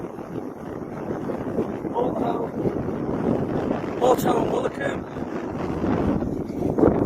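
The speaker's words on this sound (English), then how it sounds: "I know it's windy" Steady wind buffets the microphone in a broad, rumbling roar on the coastal headland of Morte Point, with someone talking over it throughout.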